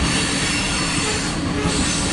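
A CSX mixed freight train rolls past close by, with loud, continuous rumbling and squealing of wheels on rail.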